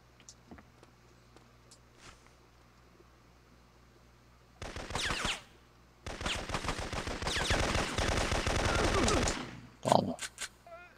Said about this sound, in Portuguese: esse cara tá atirando contra mim